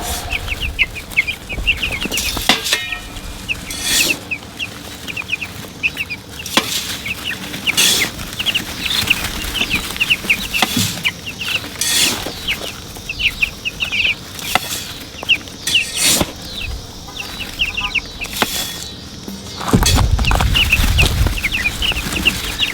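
Young two-week-old meat chickens in a pen clucking and cheeping continuously, with scattered wing flaps and scratching, close and busy, and a louder rustle near the end.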